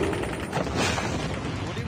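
Gunfire in the mobile shooter Call of Duty Mobile, a dense, continuous fusillade of rapid shots mixed with mechanical clatter, steady and fairly loud throughout with voices mixed in.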